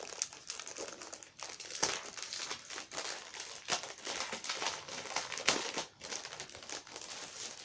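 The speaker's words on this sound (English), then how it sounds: "I'm unwrapping everything, sorry." Paper and plastic wrapping crinkle and rustle as items such as a small notebook are unwrapped from a book subscription box, close-up crackling in irregular bursts with no talk.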